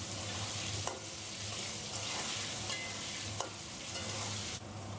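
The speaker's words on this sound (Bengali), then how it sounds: "আলু ভাজা হয়ে গেছে," Potatoes frying in oil in a pan, a constant crackling sizzle with a few sharp taps as they are stirred, close and fairly quiet, no voices.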